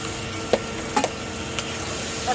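Spice paste for a meat curry being sautéed with a splash of water, a soft steady sizzle broken by a few sharp spoon clinks and scrapes against the pan.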